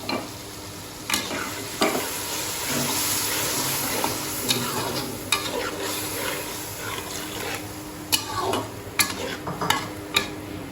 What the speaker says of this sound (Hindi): दही का पानी खुश्क होने तक और घी ऊपर आने तक इसको अब हम पकाएंगे अच्छी तरह से